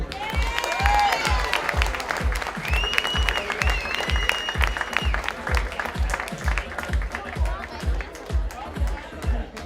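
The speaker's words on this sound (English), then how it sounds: "All right, let's give a big round of applause to our goalkeeper coach, Mark Litton." Banquet crowd at a Milwaukee Wave 30th anniversary dinner applauding a goalkeeper coach, the clapping and scattered cheers mixed with an announcer's voice and a steady, rhythmic low thumping beat underneath.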